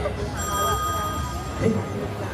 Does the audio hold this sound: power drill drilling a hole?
no